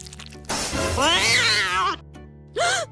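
A cat gives one long, wavering meow close by, then a short second meow after a pause, in an otherwise quiet room.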